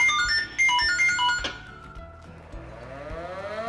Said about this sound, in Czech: já spustil veřejný poplach na vsi